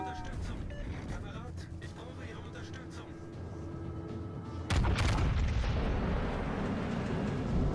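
HMS Conqueror battleship main guns firing at an enemy Alaska in World of Warships Legends: a sudden heavy boom midway that stays as a loud rumbling roar, following a stretch of quieter engine and ambient game noise.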